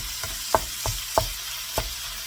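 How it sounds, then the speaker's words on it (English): Shredded cabbage cooks in a big electric frying pan, a soft steady sizzle broken by a few sharp scraping stirs at irregular intervals, close and alone. "I use this big electric frying pan because it's one of the bigger frying pans that I have"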